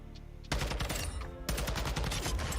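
Rapid automatic fire from a TAC 56 rifle in a video game: a short quiet lead-in, then two loud sustained bursts of closely spaced shots separated by a brief gap.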